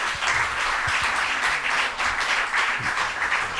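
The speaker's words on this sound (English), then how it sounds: "This is a good applause." A university lecture hall audience gives warm applause to an Italian singer-songwriter at New York University. Many hands clap densely and loudly in a continuous wash, with slight swells and no voices over it.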